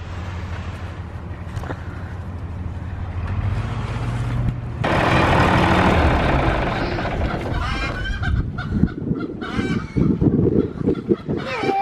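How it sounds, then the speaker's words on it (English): Loud, excited honking and squawking from chickens rises over a rumbling engine-like background. The bird calls grow busier and more chaotic toward the end. "the chickens are excited about that"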